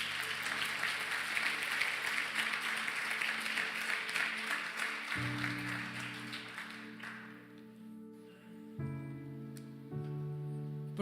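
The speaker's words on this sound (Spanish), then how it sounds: "le das un fuerte aplauso a Dios" A church congregation applauds during a sermon, a dense wash of clapping that fades after about seven seconds as soft sustained music continues alone.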